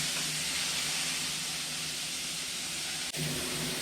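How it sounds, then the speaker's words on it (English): Chicken fries in a wok for spicy fried chicken, giving off a loud, dense, continuous sizzle and hiss that holds steady throughout, with one brief break near the end. "we're just frying this in the wok"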